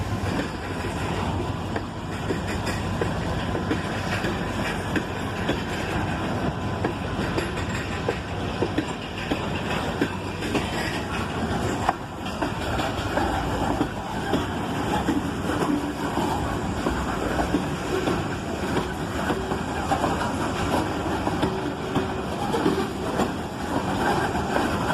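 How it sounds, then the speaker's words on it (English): An SD40-2 locomotive, originally built for the Southern Railway, hauls a cut of cars into Franklin: a steady, loud, close rumble of engine and rolling wheels runs unbroken throughout, with no voices. "An SD40-2, originally built for the Southern Railway, brings this cut of cars into Franklin"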